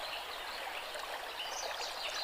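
A forest stream flows in a steady, full rushing wash that stays close and even throughout, with no voices.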